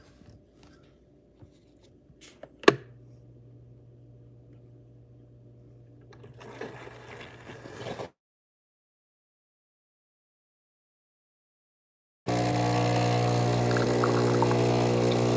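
A Breville Barista Pro espresso machine pulls a bottomless shot: a sharp click, then a steady low pump hum for several seconds that cuts off, followed after a pause by a louder, denser machine noise.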